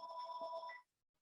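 A mobile phone ringtone plays a short, bright electronic melody of sustained tones, then cuts off abruptly into near silence, fairly quiet in a speaking-event room.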